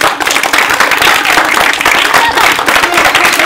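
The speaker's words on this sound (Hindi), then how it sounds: "सब बच्चों जोर से ताली बजाएंगे।" A group of children clapping loudly together, a dense, continuous burst of hand claps, close and loud without pause or talk.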